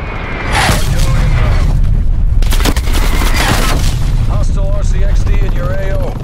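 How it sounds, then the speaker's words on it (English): Heavy artillery booms and rolling gunfire fill a Call of Duty: Black Ops Cold War match, with dense, loud blasts layered over a constant battle din and occasional whistling or tonal game effects. "Hostile artillery targeting active."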